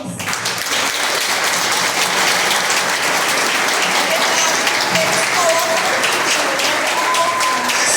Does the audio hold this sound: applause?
yes